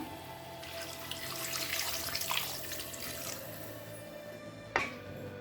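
A steady stream of water pours and splashes into a pressure cooker of sautéed chicken for a few seconds, close up, followed by a brief clunk.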